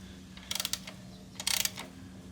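A torque wrench with an 8mm Allen adapter tightens frame slider bolts on a Yamaha MT-09 motorcycle, making two short bursts of quick ratcheting clicks. It sounds close but quiet.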